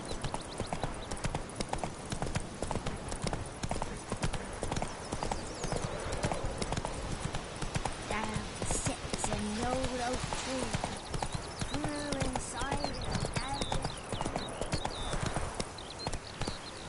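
A horse galloping in The Witcher 3, with a rapid, steady clip-clop of hooves and game music running under it while a voice speaks now and then.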